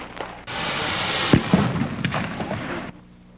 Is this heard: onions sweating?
no